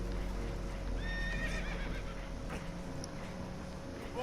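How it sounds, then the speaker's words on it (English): Horses neigh and whinny in Red Dead Redemption 2 during a rough boat crossing, with several rising whinnies over a steady low rumble of water and engine, fairly loud and close. "Horses are spooked"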